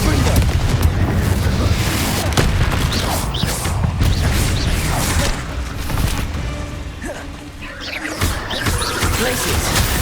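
Fiery spell blasts and booming impacts from Hogwarts Legacy combat, dense and loud with continuous rumbling low end, repeated bursts and sharp transients across the whole stretch, a voice calling out over the action.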